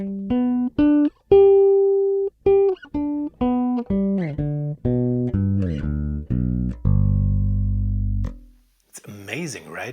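Alembic Series 1 bass guitar played through both pickups, a run of distinct plucked notes with a steady, even tone, followed by a long sustained low note and a brief burst of sound at the end.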